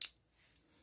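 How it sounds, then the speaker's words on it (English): A single quick, crisp snip from the spring-loaded scissors of a discontinued Leatherman Juice CS4 multitool, right at the start, followed by near silence. "these are very good snippy scissors"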